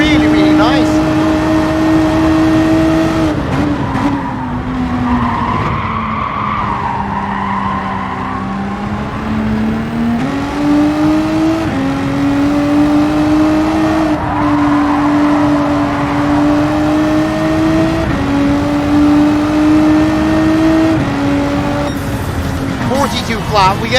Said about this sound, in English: again the sound of the engine is like fucking amazing, really really nice